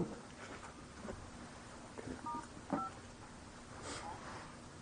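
Brief telephone dialing beeps during a phone call, a few short tones partway through, faint under steady background hiss and noise.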